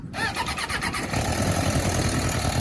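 A clapped-out used superbike with a carburetor needing cleaning and tuning cranks and fires up, then runs loud and close with a rough, uneven engine note that holds steady for a couple of seconds.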